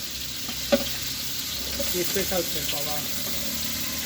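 Chopped onions and chilies fry in a pan while food is cooked for an iftar gathering with friends, giving a steady, close sizzle with a sharp crackle early on and faint voices in the background.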